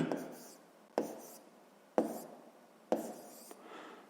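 Chalk or marker taps and scrapes across a classroom board in four evenly spaced strokes, close and quiet, with a faint voice in the background.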